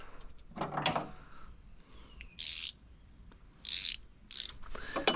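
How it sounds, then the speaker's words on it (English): A ratchet wrench on a Suzuki outboard's lower unit bolt gives three short bursts of bright metallic clicking, each about half a second long, with softer handling clunks between them. "We'll get our ratchet wrench."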